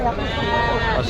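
Sheep bleating close by, a wavering cry amid a noisy livestock crowd at a large animal and bird market, with people talking in the background.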